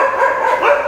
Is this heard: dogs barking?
yes